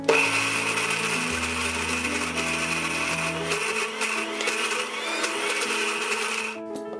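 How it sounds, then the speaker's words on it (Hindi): A kitchen blender grinds onion tomato chutney with tamarind water in a loud, steady whirring drone, its motor pitch shifting slightly partway through before it winds down at the end. "ऐसे हम ब्लेंड कर देंगे।"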